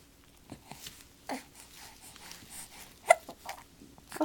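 Small hiccups come in a few short, sharp bursts spread irregularly, faint and close, with soft breathing in between and no talking.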